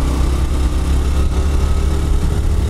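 A Honda Hunter Cub CT125 fitted with an aftermarket engine kit runs steadily at close range, its mid-pitched engine drone constant and fairly loud throughout while riding uphill.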